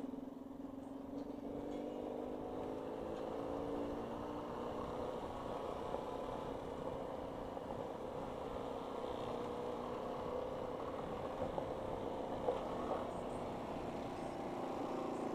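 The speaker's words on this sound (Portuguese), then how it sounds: "É isso mesmo, motorzão de CBzão." A Honda CB motorcycle engine runs at a steady idle, a continuous low rumble heard from a short distance with no talk over it.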